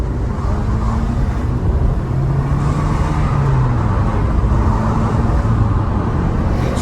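A small Suzuki Swift hatchback drives along a road, its engine a steady low hum under constant road and tyre roar heard from inside the cabin, with no one talking.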